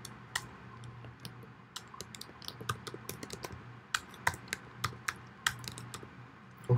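Typing and clicking on a computer keyboard: irregular, fairly close keystrokes and clicks tap out in small bursts over a quiet background.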